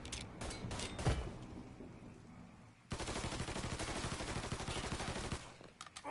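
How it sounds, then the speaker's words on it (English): Gunfire in the video game Mafia 3: scattered single shots and short bursts open the stretch, then dense, rapid automatic fire rattles continuously for several seconds before breaking off into a few last shots. "He's shooting the shit out of me!"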